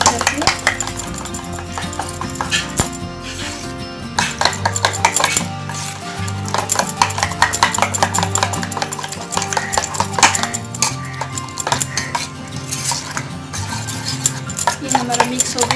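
Omelette ingredients are mixed in a bowl for a Hyderabadi street-style egg omelette, with a utensil clinking and scraping rhythmically against the bowl, close and continuous, and a voice speaking briefly at times.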